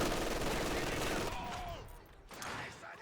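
Sniper rifle fire in a strategy war game, part of a dense burst of gunfire and explosions at the start that gives way to quieter battlefield ambience with distant shots.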